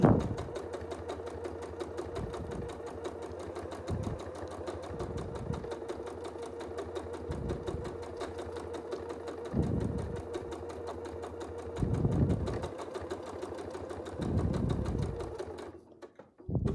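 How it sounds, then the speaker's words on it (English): A sewing machine doing free-motion quilting, a continuous close buzzing hum broken by several short, louder bursts as stitching speeds up, with no talking. "So we'll travel down a little bit, a few stitches, and we'll work our way towards the middle."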